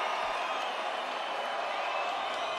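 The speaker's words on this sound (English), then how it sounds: "Vasiliy, you hear the crowd, the respect they have for the effort" Arena crowd at a boxing fight, Devin Haney vs Vasiliy Lomachenko, roaring and applauding in a steady, dense wash of cheering that holds evenly throughout, loud and continuous with no clear individual voices standing out.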